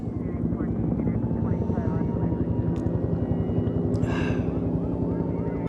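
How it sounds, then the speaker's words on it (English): A helicopter flies overhead with a steady, pulsing rotor thump that stays fairly loud throughout, heard from indoors, and a voice speaks briefly over it. "Now we're holding for a helicopter."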